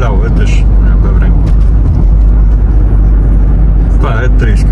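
A car drives along a small, rain-wet country road near Moscow, giving a steady, loud engine and tyre rumble throughout, with a voice talking over it.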